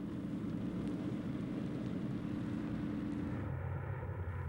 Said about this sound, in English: A piggyback plane.